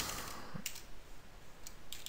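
Fingers typing an IP address on a computer keyboard, a few quiet separate key clicks spaced out irregularly, close and faint with no voice.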